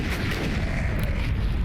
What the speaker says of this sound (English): that's a very loud explosion caused by a minefield. And so there's even more explosions